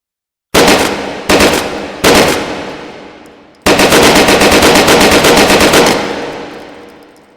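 An UMP submachine gun fires in the VR shooting game Hot Dogs, Horseshoes & Hand Grenades: three loud, sharp single bursts, then a long rapid full-auto string that rings out and decays.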